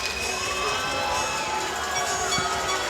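Latvian fans chant together inside a basketball arena during a FIBA 3x3 game against Serbia, a dense, steady roar of crowd voices filling the space without a break.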